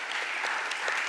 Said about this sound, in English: Let's give Everett a round of applause.